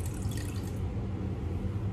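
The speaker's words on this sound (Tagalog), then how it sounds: "Ilagay natin itong natitirang lemon juice." Leftover lemon juice poured into a pot of stuffed grape leaves, a close, steady trickle of liquid running continuously for a moment.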